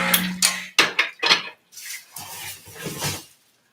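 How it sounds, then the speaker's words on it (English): Espresso machine portafilter being rinsed out, a handful of close metallic knocks and clanks with brief splashing of water, separated by short pauses. "Rinse out the portafilter."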